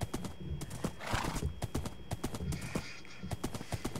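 A horse in the Minecraft video game trots with quick, close clip-clop hoofbeats in a steady rhythm throughout, with a whinny-like sound rising near the middle.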